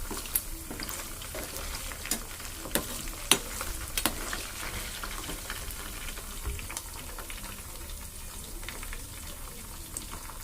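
Prawns fry in hot oil until brown, giving a faint, steady bubbling sizzle with scattered light crackles and the odd utensil tap.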